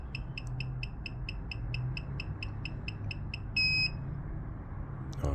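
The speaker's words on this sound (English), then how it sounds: "When it makes this beeping noise, that means it's reading." A key programmer reading a 2004 BMW EWS3 immobilizer module emits a quick regular series of about fourteen sharp beeps, then one longer tone, over a low background hum.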